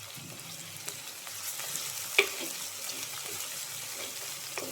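Sliced onions sautéing in a pan for a simple fish curry give a steady, soft sizzle with light spoon scrapes and one sharp clink partway through, close and fairly quiet, with no talking.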